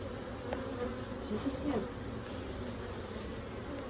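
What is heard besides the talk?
swarm of bees buzzing in a barn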